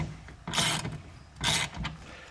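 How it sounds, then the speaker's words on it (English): A socket wrench with a 14mm socket ratchets as it tightens the rail brackets of a RetraxPRO MX hard tonneau cover on a 2023 GMC Sierra, giving two close, clicking bursts with short pauses between them. "Use a 14mm socket to tighten these brackets down."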